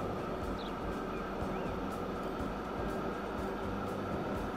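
An electric train rolls past in Transport Fever 2, a steady, dense rumble and hiss holding evenly throughout with faint high squeals on top, no voices.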